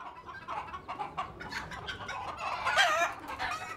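Chickens kept alongside goats on a farm, clucking and squawking in a lively, irregular series of calls close by, with one louder burst near the end.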